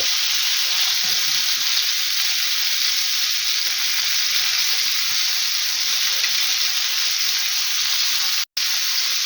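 Fish sizzles and spits steadily in a hot pan, a dense crackling hiss with no talking.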